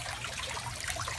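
Water trickles through a Dutch bucket in an aquaponics system and into gravel, a close, steady babbling flow with soft splashing, alone and continuous for a brief moment.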